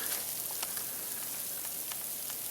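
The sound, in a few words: light sleet or frozen rain falling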